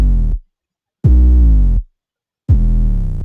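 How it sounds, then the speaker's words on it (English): Three deep, sustained bass synth notes, each cut off abruptly, with short silences between them; loud and upfront with no talking. "Another thing I have is this bass."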